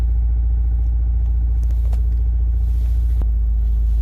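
A Honda Prelude engine idles with a steady low rumble and a rough, uneven misfire, close by and continuous, with a few faint clicks above it and no talk.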